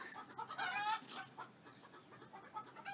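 Chickens clucking softly at a distance in a back garden, a steady series of short calls with one louder burst of squawking partway through.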